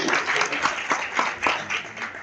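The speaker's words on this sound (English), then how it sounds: "Let's give him a warm round of applause." An audience claps warmly at a product launch for a company introducing products in the Philippines: sustained applause with rhythmic swells, fairly close, with no talk over it.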